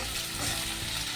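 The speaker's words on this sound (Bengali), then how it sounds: "পেঁয়াজটা একটু লালচে লালচে ভাজা হবে" Marinated chicken frying with onion in a pan, a dense, even sizzle heard close up and uninterrupted, with no voices over it.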